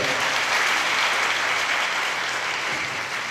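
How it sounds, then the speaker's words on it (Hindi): A church audience at a gospel gathering applauds loudly, with dense, continuous clapping close by. The applause stays steady for a few seconds and eases slightly toward the end. "एक बार जोर से तीनों के लिए ताली हो जाए।"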